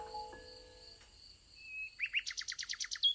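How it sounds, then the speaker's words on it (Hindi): A small bird sings clear whistled notes, ending in a quick run of rhythmic chirps, bright and close against near silence. "प्यारा पक्षी खूबसूरती से गाना शुरू कर देता"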